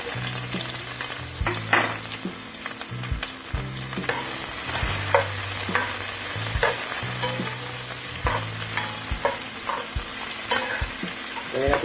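Onion sizzling and frying in a pan, a continuous crackle broken by repeated scraping and stirring strokes of a utensil against the pan.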